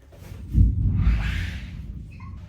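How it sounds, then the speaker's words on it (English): A deep, low rumble of distant thunder during a spring rain swells up and rolls on for a couple of seconds before slowly fading. "that thunder, I don't know if you can hear it rolling around rumbling in the background"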